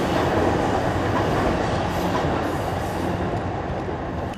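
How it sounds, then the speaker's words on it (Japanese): A Saikyo Line train in Tokyo rumbles past close by, a steady broadband roar with faint rhythmic wheel clatter, loud throughout and fading slightly at the end. "埼京線が通過しています。"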